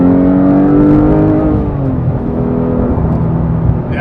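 A Porsche GT3 Touring engine revs up under acceleration, a loud, close, smooth rising mechanical howl that then settles into a steady hum, with no voices.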